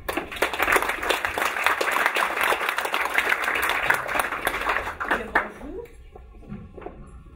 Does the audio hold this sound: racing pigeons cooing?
no